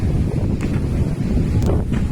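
Strong gusts of a Kalbaishakhi pre-monsoon storm roar continuously and loudly, buffeting the microphone with deep rumbling wind noise and no talking.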